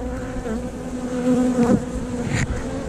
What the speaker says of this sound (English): Brand new hairy bee, fuzzy bee. Coming to get something to eat.